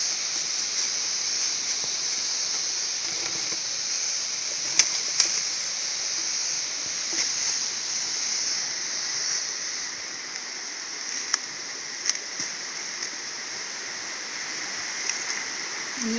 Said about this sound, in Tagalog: Ayan, guys! Ang ilog!